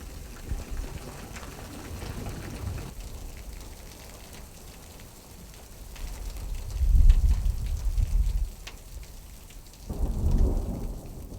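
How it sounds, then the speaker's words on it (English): Steady rain falls throughout, with low rumbles of thunder swelling twice in the background. "The rain lasted for 10 minutes"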